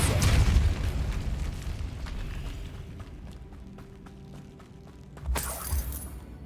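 Casting the Depulso spell in the game Hogwarts Legacy brings a booming, shattering burst that fades into a rumbling tail, and a second smaller impact follows near the end.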